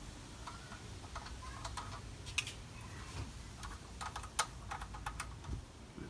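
Light clicking and ticking of a fitting being screwed by hand onto a stainless steel braided line on a '67 SS 496 Pro Touring Chevelle, soft and close, with a few sharper taps, no talk.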